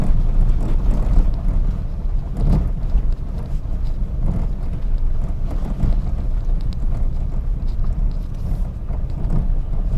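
A car rumbling along a rough forest road in tiger territory near Jim Corbett, a continuous loud engine drone with bumps, rattles and wind buffeting, close and steady throughout without talking.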